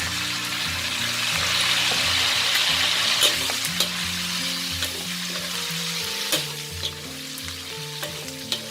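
Pork belly frying in oil in a pan: a dense, steady sizzle and crackle close up, with occasional light clinks of stirring and no talk.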